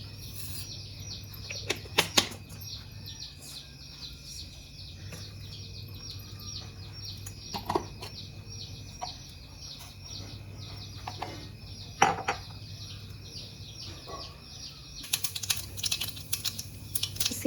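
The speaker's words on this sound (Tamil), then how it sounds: "கடுகு போடுறேன்" Mustard seeds crackle in a small amount of hot oil while tempering for a greens stir-fry, giving scattered sharp pops and sputters over a steady hiss, with denser bursts near the end.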